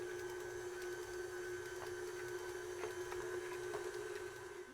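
A stand mixer whirs steadily, stirring eggs for chocolate chip cookie dough, a constant mechanical hum with a faint high whine and occasional light clicks, fairly quiet and close.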